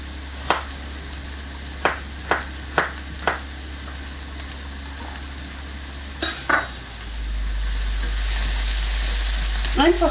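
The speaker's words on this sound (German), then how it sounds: "Einfach kurz anrösten, nur leicht anbräunen, das Ganze hier, ne, die Zwiebel." Chopped onion browning in a hot pan for a chicken-breast dish, a steady sizzle with a handful of sharp utensil clicks and scrapes early on, then the frying hiss swells louder and fuller toward the end, with no talking.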